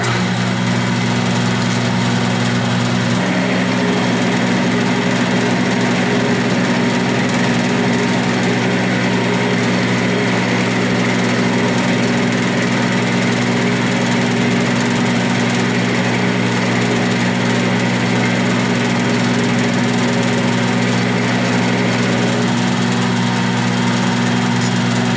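A 1/2 inch Niagara roughing end mill squares the end of a workpiece on an Atlas lathe, a steady machine drone with a strong low hum that steps up in level after a few seconds and holds continuously, close and alone.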